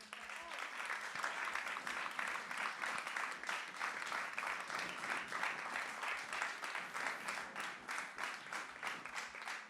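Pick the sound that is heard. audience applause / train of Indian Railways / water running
audience applause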